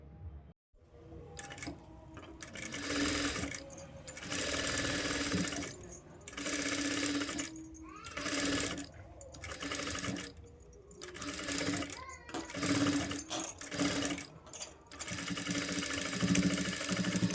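A sewing machine stitches the shoulder seam of a plain blouse in fast, whirring runs that stop and restart several times, close by, with a brief pause near the start.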